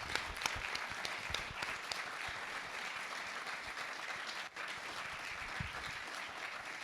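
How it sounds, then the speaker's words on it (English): An audience at a fireside chat with a startup founder applauds, a fairly quiet, steady patter of many hands with a few sharper claps standing out early on. "So I think we should all give a hand of applause."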